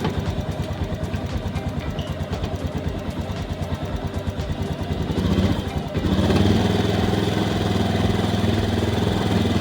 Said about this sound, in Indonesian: Sekarang kita hidupkan mesin.